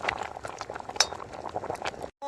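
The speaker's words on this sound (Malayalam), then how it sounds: "നമുക്കിനി ഈ വെള്ളം ഊറ്റി കളയാം കേട്ടോ." Boiling water drained off cooked tapioca from a pot, a close bubbling, pouring rush with a few metallic clinks, cutting off abruptly near the end before a brief tonal sound.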